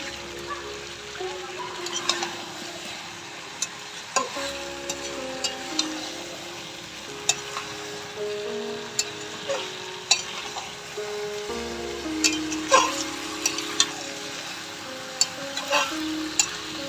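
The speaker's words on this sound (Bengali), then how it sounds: "মাংসটা কষে গেছে, দিয়ে দিচ্ছি আলুগুলো" Meat and potatoes being stir-fried in a pot over a wood fire in a village kitchen: a continuous sizzle with regular scraping spatula strokes and clanks against the pan, close and fairly loud, with no talk.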